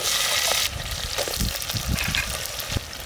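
Green chillies and onions frying in oil in a pan, a steady close sizzle with soft stirring scrapes and crackles throughout, no talking.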